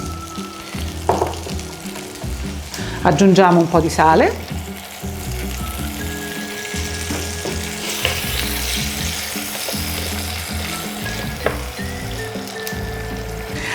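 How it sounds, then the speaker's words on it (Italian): Cherry tomatoes sizzle in a hot pan with garlic, a steady frying crackle with a louder burst early on as they hit the oil, while a voice talks over the cooking. "Li lasciamo sfrigolare."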